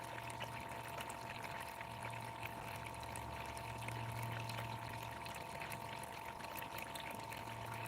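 Water runs steadily through a gold cleanup sluice, a faint continuous wash and trickle with a low pump hum beneath, even and unbroken throughout with no talk.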